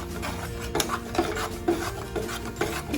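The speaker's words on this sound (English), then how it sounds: "So now I'm going to mix it properly." Rice powder being stirred into jaggery syrup in a pan for a festival sweet, with steady rhythmic scraping and rubbing strokes repeating about every half second, close and moderately loud with no talk.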